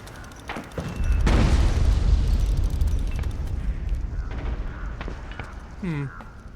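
A loud, booming explosion from the stealth-action video game Metal Gear Solid 4: Guns of the Patriots erupts suddenly and rolls on as a long, heavy rumble, with game sounds and voices beneath it.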